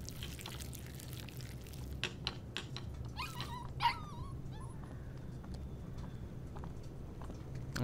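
A dog in the game Life is Strange 2 gives a few soft whimpers and yips midway through, fairly quiet over a low steady ambient hum.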